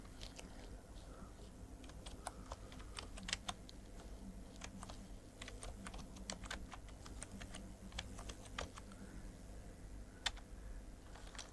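Brisk typing on a laptop keyboard, irregular bursts of light key clicks running steadily throughout, close and fairly quiet over a low background hum.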